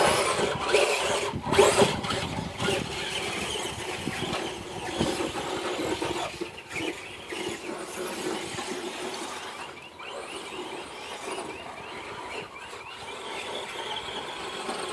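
Two RC cars, one blue and one green, drive and freestyle with whining electric motors and buzzing, rattling bursts that rise and fall, close and fairly loud, with no talk over them.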